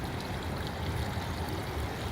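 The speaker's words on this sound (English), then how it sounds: "It's a big pedestal-like fountain, but the part that actually holds the water is very small." Steady water trickles and pours in a large pedestal garden fountain with a small bowl, a continuous close splashing wash with no pauses.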